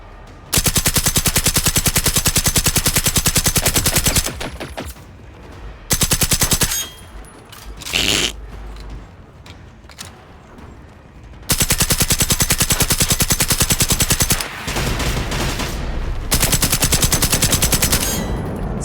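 Sustained bursts of automatic machine gun fire in the video game Generation Zero, loud and dense, with long continuous volleys separated by shorter bursts and brief pauses.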